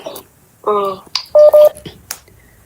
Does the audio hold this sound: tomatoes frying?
no